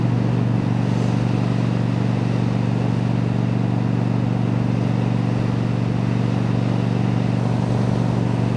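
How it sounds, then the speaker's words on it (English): A continuous motor drone with a steady hum sounds like a motorcycle passing on an overpass. It stays fairly loud and even throughout, and no one talks. "there goes a bike on the overpass"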